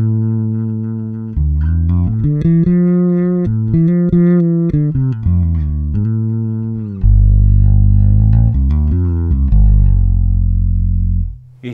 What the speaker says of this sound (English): The fretless buzz is more pronounced because of the treble.